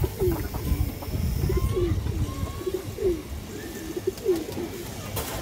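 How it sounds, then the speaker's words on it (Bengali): A female Afsan Bagha pigeon and others coo in soft, repeated low phrases at a steady rhythm, fairly close, over a quiet background hum. "খুব সুন্দর একটা মাদি কবুতর"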